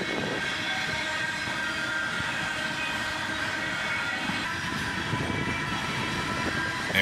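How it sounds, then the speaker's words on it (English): Manifest freight train with an auto rack in the consist, accelerating northbound past a close trackside spot, its steady loud roar of rolling cars running continuously with a high ringing hum from the rails and occasional clanks. "Listen to them rails singing."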